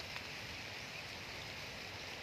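Rain falls outdoors during a hunt, making a faint, steady broadband hiss with a few scattered drop ticks and no other sounds.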